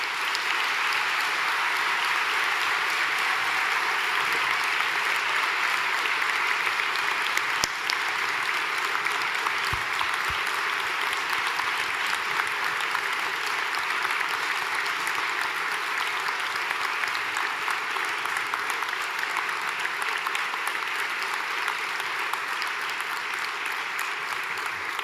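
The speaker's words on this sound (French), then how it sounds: "Nous pouvons tous ensemble applaudir leur succès." Sustained applause from a large audience at a university graduation ceremony at UQTR, honoring the graduates, dense and steady throughout with no break.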